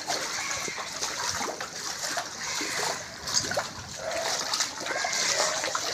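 Flood water from heavy rain streams through a house with a fully submerged ground floor, a steady rushing, splashing flow with trickling close by and no talk.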